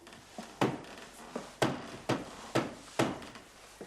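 Repeated hammer blows on wood, about eight sharp knocks in an uneven rhythm, close and fairly loud, on a 1980s film-studio set.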